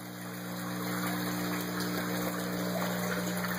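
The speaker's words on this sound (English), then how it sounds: "Seems like it makes the siphon fire more quickly." Water drains through an ABS plastic pipe siphon and overflows, a steady rushing, gurgling flow with a constant pump-like hum underneath, close and continuous throughout.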